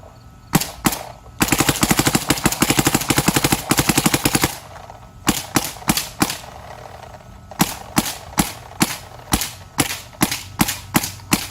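A Dye DSR paintball marker, shooting hot at around 300 to 310 feet per second, fires sharp, loud cracks close by: a few single shots, then a fast rattling burst, then steady bursts and spaced single shots.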